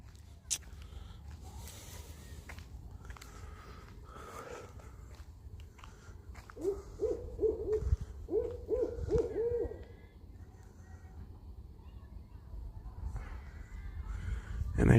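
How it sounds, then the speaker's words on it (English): An owl hoots among outdoor trees, a few mid-distance hoots in two short clusters, while crows caw and footsteps shuffle nearby. "I hear an owl. There's definitely an owl"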